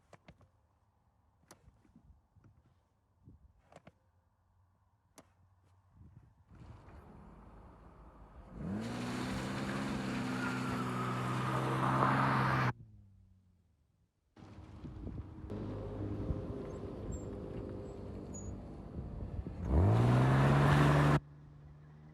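A BMW E46 automatic car engine sits quietly, then roars into two long, loud, high revving bursts during a burnout, separated by a short pause, with wind noise over the microphone.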